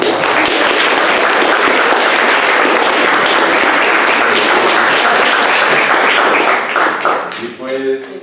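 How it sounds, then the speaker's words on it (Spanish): A seminar audience applauds after a talk on fungal diversity, dense and loud clapping that runs steadily before tapering off at the end, with a voice coming in over it. "pues igual otro aplauso"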